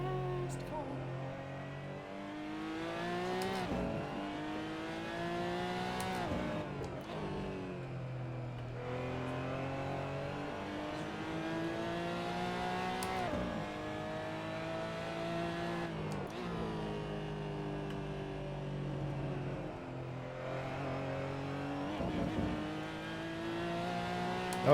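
A Porsche GT4 Clubsport race car at Brands Hatch, heard in a sim racing game, revs hard and climbs steadily through the gears. Its engine pitch rises and drops at each upshift and braking point, loud and continuous beneath faint commentary.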